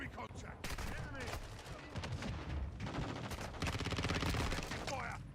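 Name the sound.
gunfire in a video game firefight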